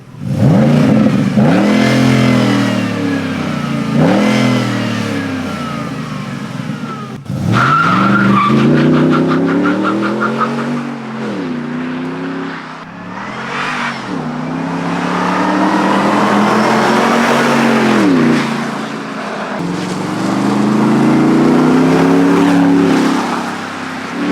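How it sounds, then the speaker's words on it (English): A cheap truck, newly fitted with an expensive aftermarket exhaust, revs and accelerates loudly outdoors with tire-skidding sounds. Engine surges swell and fade in several long passes, close and alone without talk. "So now we need to test the new exhaust."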